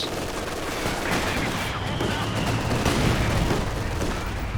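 MG42 machine gun fire in a Company of Heroes 2 battle, dense sustained bursts mixed with other distant gunfire and booms, loud and continuous throughout with a voice talking over it.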